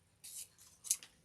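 A few quick, faint snips of scissors trimming the tail of a ribbon, close up and otherwise quiet.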